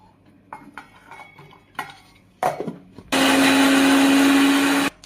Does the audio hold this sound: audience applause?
no